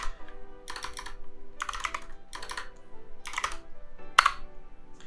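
Bursts of keystrokes as a command is typed on a computer keyboard while setting up a Raspberry Pi, in several quick clattering runs separated by short pauses, close and clear.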